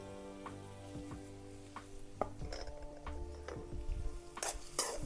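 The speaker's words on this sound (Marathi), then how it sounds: "कांदा आणि लसूण नाही का चांगलं परतून घ्यायचं" Onion and garlic sautéing in a pan for a wild-greens dish, with a soft steady sizzle under repeated scraping and stirring clacks of a spatula against the pan, plus a couple of sharper metallic clinks near the end.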